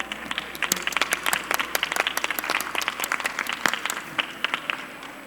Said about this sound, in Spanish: les pido un caluroso aplauso a nuestros participantes